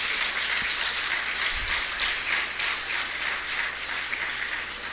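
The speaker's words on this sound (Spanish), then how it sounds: "Un aplauso al Señor." A church congregation breaks into sustained applause after a sermon, a broad wash of many hands clapping steadily throughout, fairly loud and with no voices over it.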